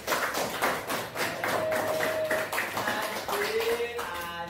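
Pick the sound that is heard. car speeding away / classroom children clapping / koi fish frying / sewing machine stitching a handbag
classroom children clapping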